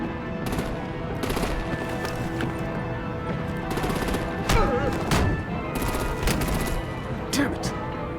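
Rapid bursts of gunfire rattle from heavy artillery weapons in a Batman action game, firing in dense repeated volleys under a constant layer of battle noise.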